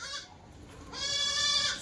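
Kathiawari goats at a livestock sale bleat in two close, loud calls, a short cry followed after a brief gap by a longer wavering one, with no talk over them.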